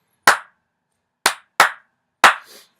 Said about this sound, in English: I'll clap that again without counting and tapping my foot.